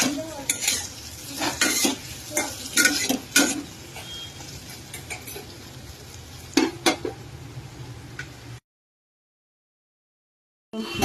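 Egg, potato and onion fry in a pan while a utensil repeatedly scrapes and clinks against the metal. Irregular stirring strokes sit over a constant sizzle, then everything cuts to silence near the end.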